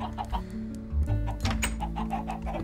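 Chickens cluck in the video game Minecraft, short clucks repeating over a steady bed of game music.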